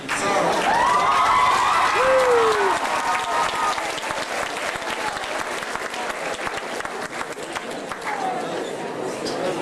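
An audience gives a loud, sustained ovation at a school assembly in St Catharines for the Kris's Wish visit in 2004. The clapping is dense and close, swelling at first, then gradually thinning while staying steady to the end.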